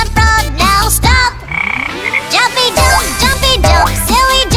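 Frog croaks sound in a children's dance song, loud and repeated over a bouncy musical backing, with several croaking calls spread across the clip.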